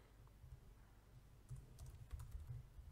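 Quiet, steady typing on a computer keyboard while a short comment is written, with soft clustered key taps that pick up in pace toward the end.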